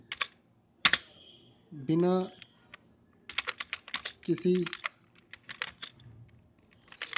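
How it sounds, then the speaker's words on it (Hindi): Sharp, close keystrokes on a computer keyboard entering Hindi text, quick irregular clusters of clicks with a couple of brief spoken words in between. "आपके सामने है हिंदी की टाइपिंग बिल्कुल आसानी से टाइप हो रहा है"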